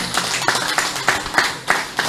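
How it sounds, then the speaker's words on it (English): A small group claps at an evening community meeting in Woodland, Oropouche West, sharp hand claps falling in a rough, quickening rhythm over a couple of seconds. "Let's give MP Rushton Paray a round of applause"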